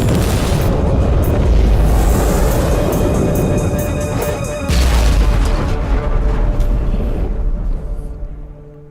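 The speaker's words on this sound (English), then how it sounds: "the automatic defense system has been activated. The turrets are attacking you." Automatic defense turrets fire in the video game Warhammer 40,000: Inquisitor, a loud, continuous barrage of heavy booming blasts that briefly breaks, resumes, then fades away.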